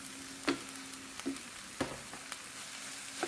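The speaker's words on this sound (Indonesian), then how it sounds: "Sekarang baru kita tambahkan atau masukkan daging ayamnya." Chicken meat frying with spices in a small wok: a steady hiss of sizzling oil, broken by sharp scraping and clinking stirs about every second, near and with no talk.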